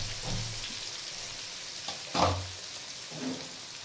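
Papaya and potato pieces frying lightly in oil in a pan for a mutton curry, giving a soft, steady sizzle with a few brief stirring clatters, fairly quiet and close.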